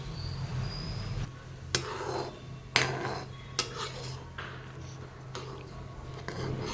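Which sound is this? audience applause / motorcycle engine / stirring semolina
stirring semolina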